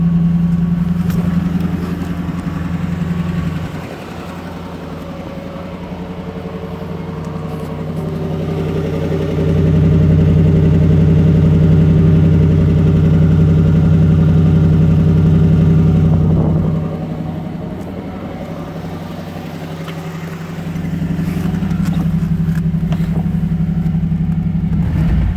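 A 1978 Chevrolet Camaro LT engine runs close and loud, a deep steady idle that swells into longer revving stretches and settles back, alone with no talking.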